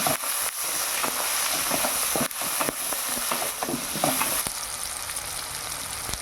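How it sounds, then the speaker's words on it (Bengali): Chopped tomato frying in oil with onion for a fish curry, giving a loud continuous sizzle and hiss close up, broken by scraping stirs and a few sharper knocks against the pan. "তারপর দেবো টমেটো কুচি। ভালো করে এটাকে তেলের ওপর ভেজে নিতে হবে।"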